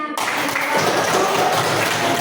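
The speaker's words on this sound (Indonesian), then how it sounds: "tepuk tangan semuanya" Schoolchildren clapping together in an elementary school classroom, a dense, steady burst of applause that starts abruptly and carries on loudly with no pause.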